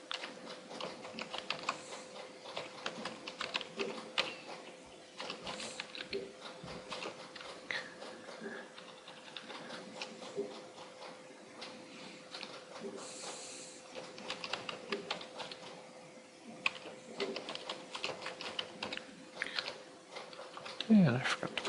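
Steady, quiet keyboard typing clicks away throughout, with a faint hum in the background and no talking.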